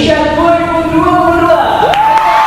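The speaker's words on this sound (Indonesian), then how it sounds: "Langsung saja boleh kita beri tepuk tangan yang meriah untuk Putri Anak Indonesia" A lively crowd of children and adults cheers, whoops and applauds as Putri Anak Indonesia is welcomed at an emcee school event. Loud sustained shouting and a rising whoop sit over the background clapping.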